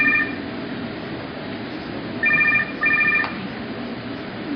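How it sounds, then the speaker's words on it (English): A phone rings during a school stage performance, a loud electronic trill heard in three short bursts, one at the very start and two close together near the end, over a faint room hum. "His phone rings."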